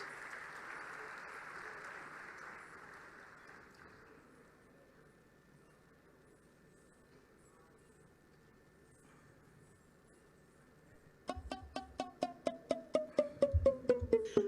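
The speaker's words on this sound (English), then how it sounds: "A big round of applause to students of Punjab Engineering College." Applause from an audience at the Punjab Engineering College centenary celebrations after a student Bhangra performance: moderately loud clapping that gradually fades over several seconds, followed by a quieter stretch before rhythmic, drum-driven music begins.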